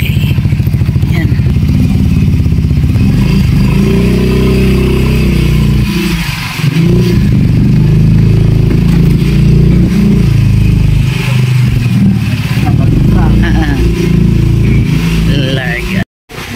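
A motorcycle carrying a rider and passenger runs with a loud, steady engine drone and wind rumble up close, pitch shifting as it changes speed, with a voice partly under the noise.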